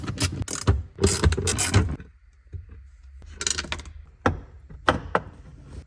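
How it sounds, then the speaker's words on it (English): A ratchet undoes four 10mm nuts under the removed seat of a BMW E46 during a fuel system install, giving bursts of close clicking and clattering turns separated by brief pauses. "Once your seat's out the way, you'll see these 4 10mm nuts, and just go ahead and undo them."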